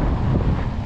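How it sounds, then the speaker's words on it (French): Wind gusts buffet the microphone at the seaside at low tide, a steady, loud rumbling roar with a faint wash of surf beneath. "Enfin du vent."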